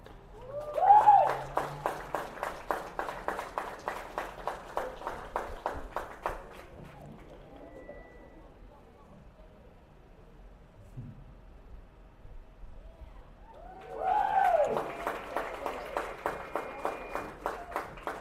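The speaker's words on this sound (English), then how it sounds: "Can we get another round of applause for the 2025 Heritage High School Baseball Senior Class?" Applause for the 2025 Heritage High School baseball senior class at a ballgame: two bursts of steady rhythmic clapping, moderately distant, separated by a quieter lull of outdoor ambience.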